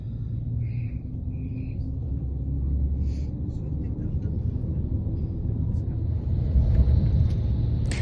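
A car drives through the Pyrenees mountains near the Spanish–French border, its steady low road rumble and engine drone continuing throughout, loud and close, as if heard from inside the cabin.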